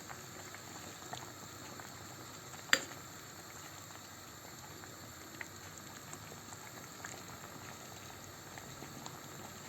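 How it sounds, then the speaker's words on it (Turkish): Homemade sugar-free Turkish fruit compote (hoşaf) boiling in a pot on the stove, a faint steady bubbling simmer with one brief sharp clink partway through, no voices. "gördüğünüz gibi kompostumuz tamamen kaynamaya başladı"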